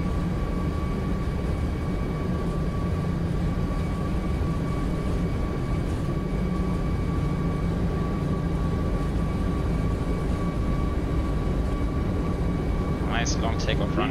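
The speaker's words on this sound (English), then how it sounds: "Long takeoff run here. One rotate. Let's go flying." Steady broadband engine roar of a Boeing 737 Max 8 accelerating down the runway on its takeoff roll in the Prepar3D simulator, a continuous loud drone with a high tone running throughout.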